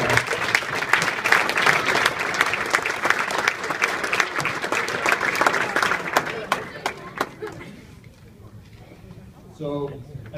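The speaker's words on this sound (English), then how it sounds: "a round of applause." Audience applause after a speech introduction at a boys' travel basketball event, dense clapping for about six seconds that thins into scattered claps and fades, with a brief voice near the end.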